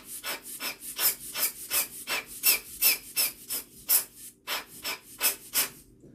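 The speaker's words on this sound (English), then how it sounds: "Then I take my air blower." A hand air blower puffs air to clean the sensor of an Olympus OM-1 camera: a quick series of about fifteen short, breathy hisses in a steady rhythm, close and alone.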